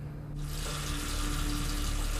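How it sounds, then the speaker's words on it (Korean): Water rushes from a toilet, starting abruptly after a low hum and then running as a steady, loud, close hiss of flowing water that continues to the end. "또다시 들려오는 물소리."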